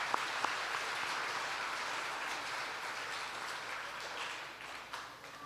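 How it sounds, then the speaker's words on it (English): An audience at the Choctaw Nation Princess Pageant applauds the chief and tribal council, a soft, steady wash of clapping that carries on for several seconds after a couple of sharp knocks. "Let's give them a round of applause."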